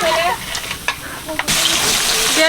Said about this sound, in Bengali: মাছ ভাজা হয়ে গেছে রুই মাছটা ভেজে নিচ্ছি